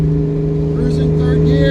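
A car with a Ford 302 V8 cruises steadily in third gear, its engine hum holding a constant low drone close by, with faint higher whine above and no talking.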